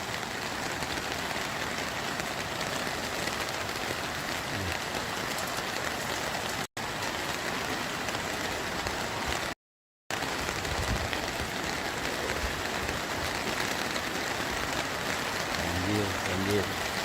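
Heavy rain pours down during a flood in Lahat, a dense, continuous roar of downpour on surfaces with a couple of brief dropouts, no voices audible.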